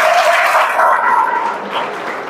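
Students in a college hall clap for a classmate named Anvesh, a dense burst of applause that is loud at first and then thins out over a couple of seconds.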